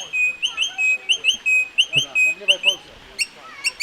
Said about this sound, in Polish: Czekaj, bo tu papuga jest. Słyszycie ją?